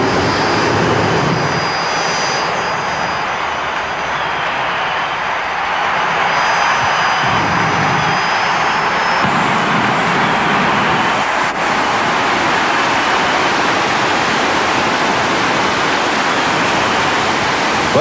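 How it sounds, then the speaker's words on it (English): Single-engine jet turbine pulling tractor at full throttle during a 1991 tractor pull in Tampa, Florida, a loud continuous roaring whoosh with a high turbine whine, sustained throughout. "This is the single-engine turbine-powered machine of Robert Soyson"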